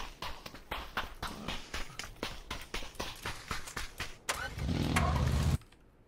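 A vehicle driving in the video game PUBG, rumbling with rhythmic thumping pulses, then swelling into a louder, close engine roar before cutting off abruptly near the end.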